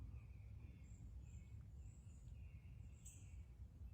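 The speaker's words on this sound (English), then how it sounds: "Do you hear those birds?" Faint birds chirp intermittently in the distance over a steady low rumble of wind or outdoor noise.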